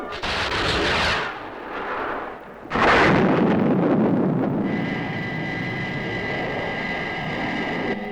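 Missiles fired at the Thunderbirds explode in two heavy, booming blasts close together, then a sustained rumbling roar with a high whining engine tone carrying on loudly to the end.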